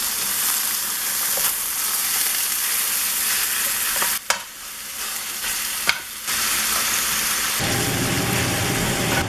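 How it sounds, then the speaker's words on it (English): Sausage frying in a pan for a breakfast casserole gives a dense, loud sizzle that runs almost unbroken, with a couple of brief dips and clatters where the pan or utensil is moved. "while our sausage starts to cook"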